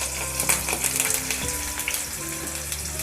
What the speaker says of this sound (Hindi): इसमें हम ये पनीर के क्यूब्स डालकर इसको गोल्डन फ्राई करेंगे।